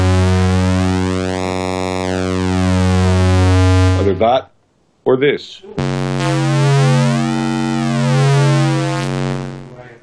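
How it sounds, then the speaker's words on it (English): A DeepMind 12 synthesizer oscillator with pulse width modulation plays a bright, buzzy sustained tone whose harmonics sweep and shimmer, cutting out briefly for a short spoken remark before the swept tone returns. "if you hear that pulse width on that, pulse width modulation on that sounds totally different"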